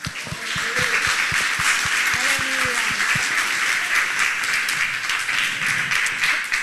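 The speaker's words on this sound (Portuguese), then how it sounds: "Vamos glorificar a Deus com muitas palmas a Ele." Sustained, dense applause from a large church congregation fills the room steadily, with sharp individual claps standing out near the start.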